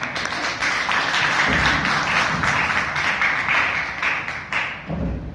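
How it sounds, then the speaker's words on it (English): Dense, steady applause fills a Toastmasters meeting room, sustained and loud for several seconds with only slight dips. "Please keep the applause going as I call upon evaluator PTM Sangeeta Mishra."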